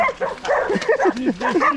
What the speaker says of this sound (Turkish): Evet köpekler. Köpekler. Saldırın arkadakilere saldırın.